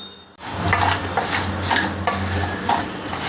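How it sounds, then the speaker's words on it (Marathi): Rice dry-roasting in a pan for traditional thalipeeth bhajani flour, with steady stirring scrapes and soft grainy rustling repeating across the clip, close and moderately loud, no talk. "तर तांदूळ मी भाजून घेते सगळ्यात अगोदर."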